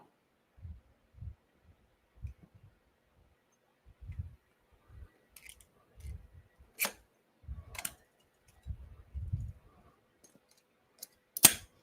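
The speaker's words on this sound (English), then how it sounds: "Let's get that snap ring back on." Sharp metallic clicks and snaps as a snap ring is worked back onto a woodturning chuck, a dozen or so scattered close taps and scrapes in a quiet room, ending in a bright final snap.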